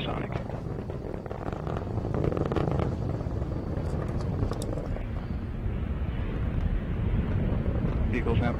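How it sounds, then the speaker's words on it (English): An Atlas V's RD-180 engine roars during a launch as it throttles down near max Q, a steady far-off low rumble with crackle, mostly beneath a voice talking over it. "RD-180 throttling down slightly as expected, and engine response looks good."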